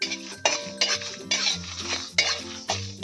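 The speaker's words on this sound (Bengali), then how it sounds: "গ্যাসটা একদম কমিয়ে আমি 1 থেকে 2 মিনিট নেড়ে নেবো" Spices frying together in a pan on a very low gas flame for Bengali shukto are stirred with a utensil, giving close, repeated scraping strokes in a steady rhythm about twice a second, with no talking.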